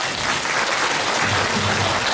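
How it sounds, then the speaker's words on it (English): An audience applauds at a charity gala dinner held by an Australian women's association, a dense, loud burst of clapping from a full room that fills the whole moment, with no talk over it. "Can we give Nancy a round of applause？"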